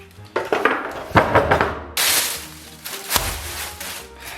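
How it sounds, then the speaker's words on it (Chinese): A knife chops pork belly into mince on a wooden chopping board, with a few sharp, irregular thwacks and clattering knocks, close and loud, alongside brief scraping handling sounds. "先把五花给它切成末"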